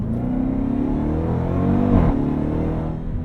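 The engine of a Dodge Durango SRT Hellcat rumbles loudly from inside the cabin while driving, rising in a rev and dipping briefly at a gear shift before pulling on.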